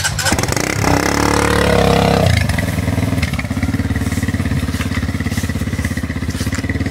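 A motorcycle engine catches with a loud burst of revving that rises and falls, then settles into a steady, close, throbbing idle.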